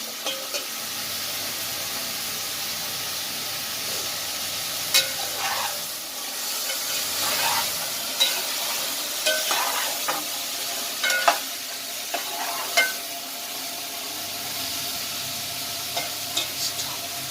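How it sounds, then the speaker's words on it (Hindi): Mixed okra salan fries in a pot on the stove with a steady hiss and sizzle, and a spoon stirs and scrapes now and then with soft clicks, heard alone. "ये हमने इसे 5 मिनट तक भून लिया है।"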